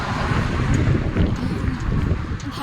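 Cold wind buffets the microphone on a Budapest sidewalk, a loud, gusty low roar that swells and eases over a couple of seconds, with no one talking.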